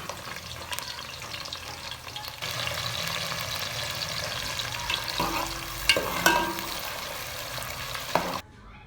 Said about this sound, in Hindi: अब इसमें एक मीडियम साइज़ का प्याज ऐड करेंगे और इसे अच्छी तरह ब्राउन कर लेंगे